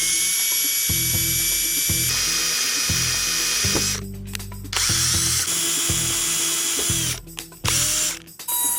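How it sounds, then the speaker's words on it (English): Drill boring pilot holes in pedal car wheels, a whining motor that starts and stops in repeated bursts with ratcheting grind, close and loud with brief pauses between runs. "he can drill pilot holes before using a Dremel tool to open the holes up"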